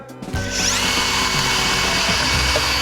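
A Fein power drill runs at its maximum speed of about 4,000 RPM while boring into steel, a loud, continuous high-pitched whine with grinding cutting noise that starts after a brief pause and holds steady throughout.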